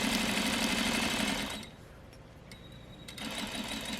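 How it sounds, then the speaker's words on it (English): Sewing machine stitches a quarter-inch French seam with a fast, steady mechanical whirr, stops briefly with a few soft clicks, then runs again, close and clear. "I'm just going to go ahead and sew my seam"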